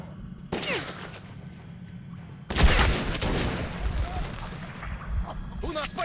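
Shotgun blasts and gunfire in the video game Metro 2033, a burst of loud booming shots with rumbling, chaotic combat noise over a few seconds while someone talks over the action.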